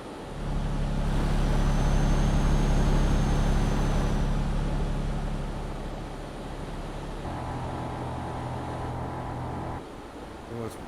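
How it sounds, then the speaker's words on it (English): In Euro Truck Simulator, a truck rolls over a rumble strip, giving a loud, steady low droning rumble that eases off partway through and continues with engine hum to the end. "It's the rumble strip that is where that sound is."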